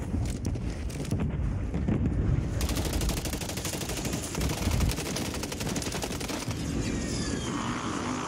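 Rapid automatic gunfire from a video game rattles steadily and densely throughout, loud and continuous, with rumbling wind-like noise mixed in and no voices.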